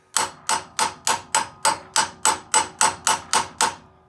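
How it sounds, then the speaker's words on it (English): Twelve sharp, evenly spaced hammer blows drive a clutch cover onto a Predator 212 golf cart engine in steady rhythm, close and fairly loud, each with a short metallic decay. "Get it lined up and hammer it on."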